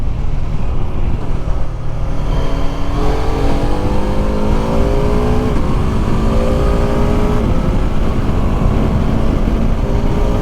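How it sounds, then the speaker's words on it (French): A BMW F 450 GS motorcycle revs up with rising engine pitch, its 135-degree crank twin climbing through several surges of acceleration, loud and close with no talk over it. "Alors on va accélérer un petit peu"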